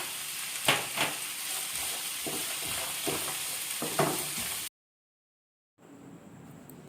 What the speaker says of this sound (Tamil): வெங்காயம் தக்காளி நல்லா வதக்கிட்டு ஒரு 2 நிமிஷம் நாம் மூடி விட்டுடலாம்